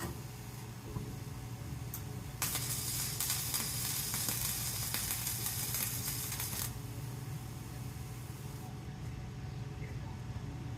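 Welding arc sizzles and crackles steadily in the background, swelling into a loud, harsh hiss for several seconds before settling back to a lower buzz, with a low hum running underneath.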